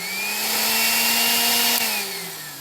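An old corded 3 amp drill whines at a steady pitch close by, then its tone drops as the motor coasts down, no speech.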